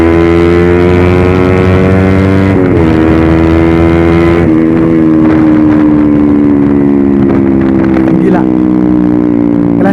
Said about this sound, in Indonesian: Kita coba gas full dulu guys.